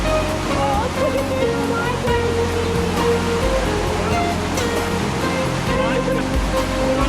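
Creek water flowing steadily at a jungle log-bridge crossing on the Kokoda Track, a dense continuous rush close by, with people talking faintly over it.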